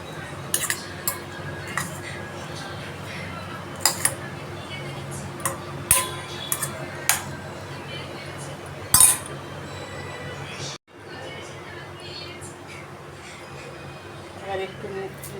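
Chicken salad being mixed with salt in a bowl, giving scattered light clinks and pings of a utensil against the dish over a steady background, with a voice speaking in places.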